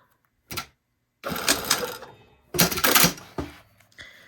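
A sewing machine tacks down a zippered pocket on a garment in three short bursts of stitching, a brief one, then two longer runs about a second and a half each, with pauses between and no talk.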